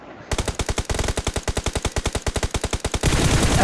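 Rapid automatic gunfire in the battle royale game BGMI during a hot-drop fight: a loud, steady burst of evenly spaced shots for about three seconds, ending in a dense wash of noise.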